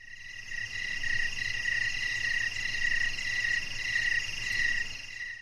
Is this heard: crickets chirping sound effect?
yes